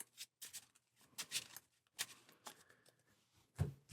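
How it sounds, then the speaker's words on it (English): Marvel Champions game cards are shuffled by hand at close range: a quiet series of soft riffling bursts and papery snaps, irregular and short, with no talk. "Give this a nice shuffle."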